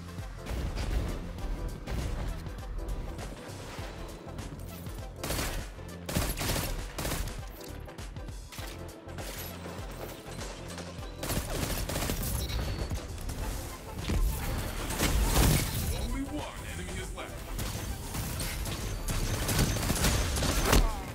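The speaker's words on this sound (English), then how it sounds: "This pulse rifle was pretty crispy." Dense, sustained pulse rifle gunfire from a Destiny Trials match, loud bursts and crashing impacts overlapping almost continuously with only brief dips, a faint voice occasionally underneath.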